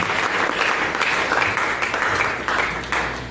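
A congregation bursts into loud, sustained applause at a prophetic church service, dense clapping filling the space steadily from start to finish with no voices above it.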